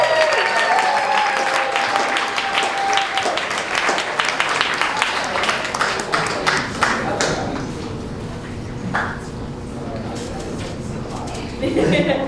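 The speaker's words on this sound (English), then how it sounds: "Round of applause for the volunteers." A comedy club audience breaks into loud, dense applause that fades into scattered claps and murmuring, with voices talking over it.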